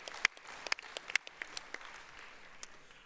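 Scattered applause rises from the audience at a TUC union congress for a performer, with sparse, uneven claps that sound fairly distant and light throughout.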